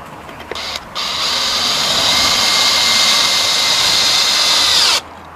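A Peugeot Energydrill 18V 5.0Ah drill runs at higher speed in one loud, steady, close whine lasting about four seconds, then stops abruptly.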